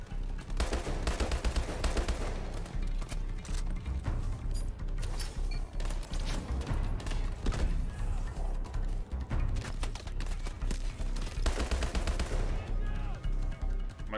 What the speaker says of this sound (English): I don't even know if I'm shooting at someone.